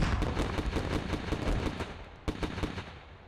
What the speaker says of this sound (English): Rockets being exchanged